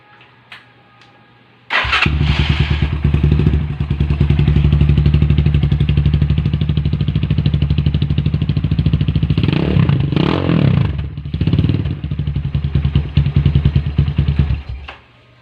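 A Rusi Sigma SS 250 motorcycle fitted with an Akrapovic replica slip-on pipe cranks and fires up, then idles loudly with a rapid throbbing exhaust and a couple of brief revs before shutting off.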